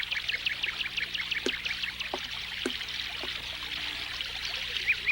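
Brook water flowing in a steady, soft rush, with light chirping and brief knocks over it. No one speaks.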